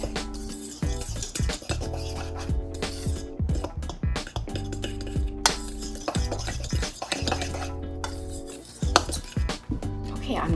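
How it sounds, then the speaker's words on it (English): A metal fork scrapes and clinks against a bowl as it stirs spices and leavener into dry ingredients for low-carb keto zucchini bread, a close, continuous run of rhythmic tapping and scraping. "I'm going to take a fork and I'm just simply going to incorporate our spices and our leavener into our dry ingredients."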